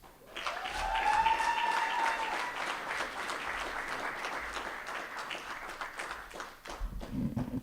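A crowd at an annual meeting applauds a senator in a hall, a sustained wash of clapping that swells early, holds steady for several seconds and then thins as a voice begins at the end.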